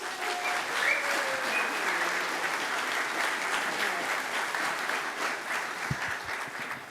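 An audience at a Humboldt County town hall breaks into sustained, dense applause welcoming a county supervisor, loud and even throughout with a few cheers mixed in.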